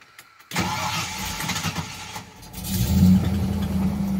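A 1993 Ford F-150 Flareside pickup with a new Flowmaster exhaust and a leaking exhaust manifold cranks and starts, the engine catching after about half a second and swelling into a loud, rough idle up close.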